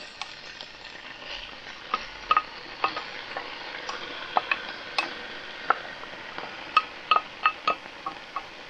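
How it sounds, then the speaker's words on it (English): Instant rice is stirred in a frying pan, with a soft sizzle under irregular clinks and taps of the utensil against the pan, close and fairly quiet, with no talking. "Add the rice in now."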